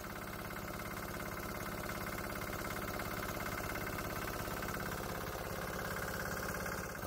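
A diesel engine on a diesel-electric golf cart runs steadily nearby with a rapid, even knocking chug and a constant rattling drone, no voices present.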